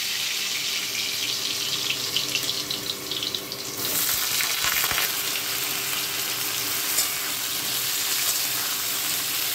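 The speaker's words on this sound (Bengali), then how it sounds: "তেল গরম হয়ে গেছে, এবারে আমি আলু ছেড়ে দিচ্ছি।" Cut potatoes hit hot oil on a high gas flame, setting off a loud, hissing sizzle that swells sharply partway through and keeps crackling steadily to the end, with no talking.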